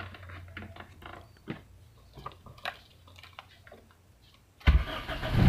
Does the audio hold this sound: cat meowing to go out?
no